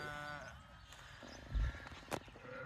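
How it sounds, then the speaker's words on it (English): Sheep and a little lamb bleat at an Amish garden center, a few wavering calls heard at moderate distance over outdoor ambience and faint handling noise, with a low thump in the middle. "There's some sheep and a little lamb there."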